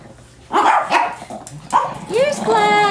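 Several dogs bark in short bursts at a retirement sanctuary for dogs during morning play, with someone talking over and between the yips and barks.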